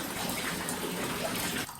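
Water sloshing and splashing in a tub while laundry is stripped, a continuous wet rush close by with no talk.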